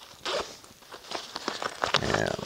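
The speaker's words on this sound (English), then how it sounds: "It's got an outside zipper pocket." The zipper on the outside pocket of a Surviveware small first aid kit is pulled open in a few quick rasping strokes, close and fairly loud, with no talking.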